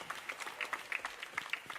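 Audience clapping at a school welcome event at St. Joseph's Matriculation Higher Secondary School, a brief burst of scattered, fairly close hand claps from a modest crowd.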